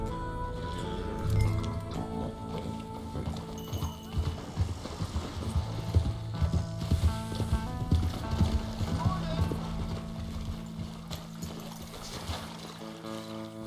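Horse hooves clip-clop at a steady riding pace in Red Dead Redemption 2, heard under voices talking and background music.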